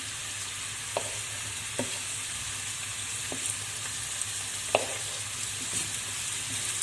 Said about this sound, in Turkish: soğanlarımızı öncelikle kavuruyorum hafiften